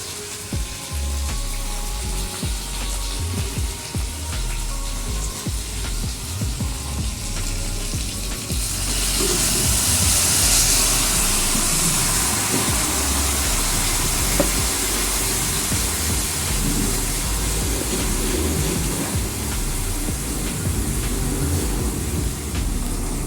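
Chayote frying in a home kitchen pan gives a steady, close sizzle and hiss that runs the whole time, swelling brighter and steamier about halfway through.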